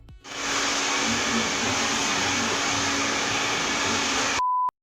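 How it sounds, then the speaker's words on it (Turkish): A hair dryer runs on its hottest setting, held close to heat cardboard packaging, giving a loud steady broadband whoosh that starts abruptly and holds for over four seconds before cutting off, followed by a brief electronic beep. "kartoneti yırtmadan ve kartonete zarar vermeden sökmenin yolu fön makinesi"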